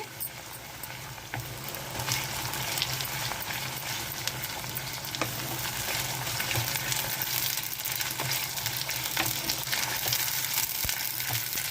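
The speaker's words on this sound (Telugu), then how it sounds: "ఇది బాగా వేగిపోవాలి" Ingredients for egg dum biryani fry in hot oil in a pot, a steady dense sizzle running throughout with occasional stirring clicks, close and fairly loud, no voices.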